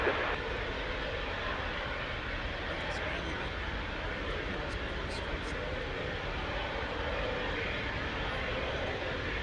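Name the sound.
airplane taking off at DFW Airport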